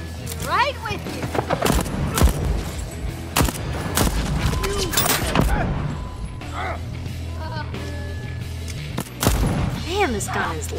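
Gunfire in the video game Deathloop, with repeated sharp shots and bursts booming at close range amid crashes and game effects, while someone talks over the action.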